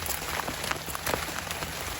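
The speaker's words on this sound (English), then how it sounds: "It is raining real good." Steady rain patters on a blue Home Depot tarp over a morning campsite, a dense, even hiss with scattered louder drop hits close overhead.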